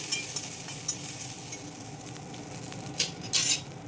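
Soft crackling sizzle of curry leaves in sambar tempering oil with light stirring scrapes, ending in a brief louder burst of spattering near the close.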